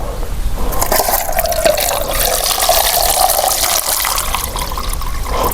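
Water is poured into a pot for boiling eggs and making tea in a forest, a loud, close gushing stream with a rising fill tone that runs steadily, then trails off at the end.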